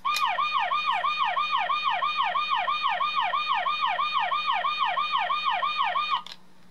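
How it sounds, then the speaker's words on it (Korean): A toy car's rapid electronic wailing siren repeats in a fast, even rhythm, loud and close, cutting off abruptly near the end. "보시면 사이렌이 울리는 버튼 한번 사이렌을 올려 볼까요?"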